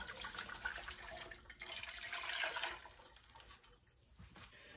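Water poured back into a pot while making corn cob jelly, a steady splashing, trickling pour that rises in the middle, then tapers to a quieter dribble near the end; close and moderately faint with no talk.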